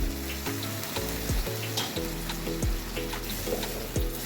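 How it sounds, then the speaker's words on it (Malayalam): Boiled chickpeas poured with their cooking water into hot oil for chana masala, giving a loud, steady sizzle and bubbling, with stirring scrapes at a regular rhythm close by. "നമുക്കിനി വേവിച്ച് വെച്ചേക്കണ ചണ ഇതിലേക്ക് ഇട്ട് കൊടുക്കാം. ആ വേവിച്ച വെള്ളത്തോടു കൂടി ഒഴിച്ചു കൊടുക്കാം."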